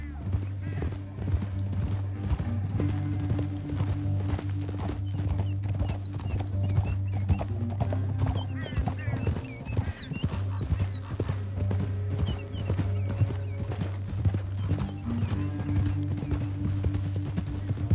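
Rapid hoofbeats of galloping horses in the video game Red Dead Redemption 2 clatter continuously over a low steady hum, with brief snorts and occasional voices in the mix.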